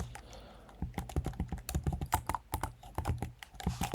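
Someone types Python code on a computer keyboard, producing a quick run of close, crisp key clacks in an irregular rhythm, steady throughout with no talk.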